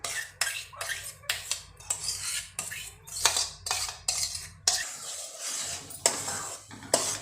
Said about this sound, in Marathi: हे बघा, असं हलवतच राहायचं, नाही कढईला चिटकेल